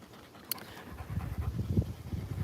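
A large working dog, such as a Cane Corso, Rottweiler or mixed breed, pants after a workout with quick, rhythmic, breathy huffs, close and fairly soft, with a short sharp click early on.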